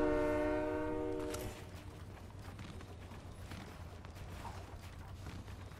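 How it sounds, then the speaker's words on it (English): A train in the video game Fortnite sounds its horn in a sustained multi-tone blast that cuts off after about a second and a half, leaving a steady rumble of rolling rail noise. "I like the train, bro"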